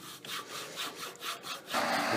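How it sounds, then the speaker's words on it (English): Abrasive scraping as the bottom of a first wooden bowl is sanded on a wood lathe, a steady rasping rub that swells and fades in repeated strokes, then turns continuous and louder near the end, with no talk. "then I'll sand it out. Sanding the bottom out."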